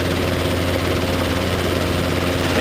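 A Robinson R22 training helicopter departs from a ramp, its steady rotor and engine drone loud and close, continuous throughout without voices.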